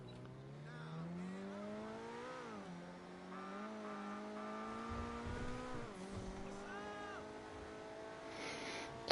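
An Inverted Coquette sports car in GTA Online on PS5 drives hard, its engine revving and rising through the gears with pitch sweeps and brief tire squeal, steady and close throughout with no talk.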